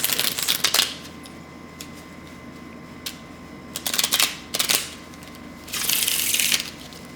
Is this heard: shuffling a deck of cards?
yes